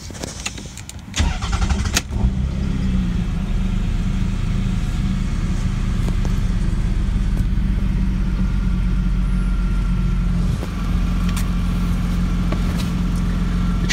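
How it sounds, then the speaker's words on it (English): A car engine cranks with a few sharp starter bursts, catches and settles into a steady, loud idle that runs on alone, its low rumble holding evenly to the end; the restart comes after trouble codes are erased with an Innova 6030P OBD2 scanner. "Let me turn the vehicle back on now."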